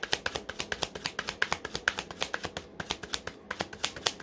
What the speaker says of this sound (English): I'll start shuffling my own deck.